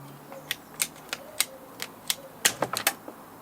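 Sharp snipping clicks from cutting back a corkbark elm bonsai branch to a stub, with about a dozen quick, crisp snaps in an irregular rhythm, close and clear over a quiet background.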